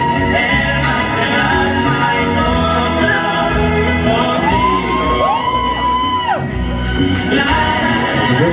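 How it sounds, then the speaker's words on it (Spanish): Party crowd at a quinceañera for Esmeralda cheering and whooping loudly and continuously, with shouts and whistles over dense background noise and music. "Un fuerte aplauso para nuestra quinceañera Esmeralda esta tarde"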